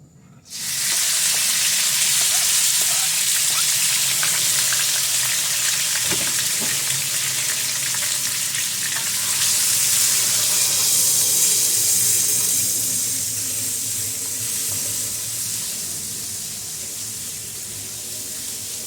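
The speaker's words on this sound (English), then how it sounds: "You want to hear that oil sizzle" Loud, steady sizzling of oil in a hot pan, a continuous crackling hiss close by with occasional faint clinks, no talking.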